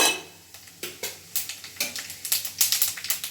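Whole spices crackle and pop in hot oil as they are tempered for a chicken gravy, with a steady sizzle and sharp, quickening spits that grow denser toward the end, close and loud with no talking.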